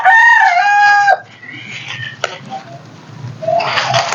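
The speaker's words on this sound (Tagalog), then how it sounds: "maririnig ninyo na mayroong mga manok na tumitilaok dahil nandyan lamang po yung manok" Roosters crow loudly close by in a front yard, one long crow opening the clip, followed by faint clucking and a second crow rising at the end.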